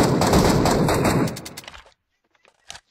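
A dense, loud rattle of rapid gunshots from a weapon in Fortnite fills the opening, then fades into a few scattered softer pops and a final brief shot.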